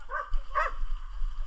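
Hunting dogs bark twice in quick succession during a wild boar hunt outdoors, two sharp yelping barks at moderate distance over a low background rumble.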